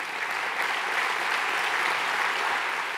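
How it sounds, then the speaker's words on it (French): A hall audience applauds steadily at a civic New Year's address to residents, a dense, even wash of clapping that carries through the whole stretch with no break. "Je crois qu'on peut les applaudir."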